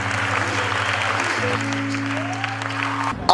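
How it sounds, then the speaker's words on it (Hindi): Audience applause at a patriotic talk by Shifuji honoring Rajasthan Police, a steady wash of clapping sustained for about three seconds with a low hum underneath, ending in a brief louder burst. "तो एक बार जोरदार तालियां होनी चाहिए"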